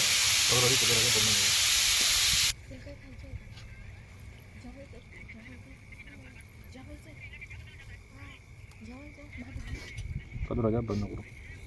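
Butter hits a hot griddle with a loud, close, hissing sizzle for about two seconds, then settles into a softer crackle beneath people talking.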